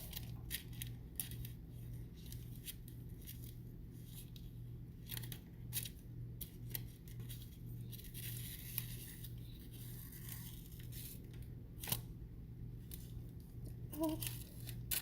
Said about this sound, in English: So just kind of go through and cut it all up.